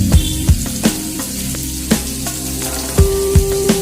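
Kavalai fish frying in hot oil in a pan gives a steady sizzle and crackle, punctuated by sharp pops and spatters at irregular intervals, close and fairly loud.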